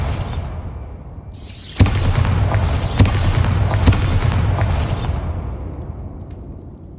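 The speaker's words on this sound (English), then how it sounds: "Bombarda!" A Bombarda blasting spell goes off in the Hogwarts Legacy video game as a loud, close boom followed by a sustained roar of debris and rumble that fades out over several seconds.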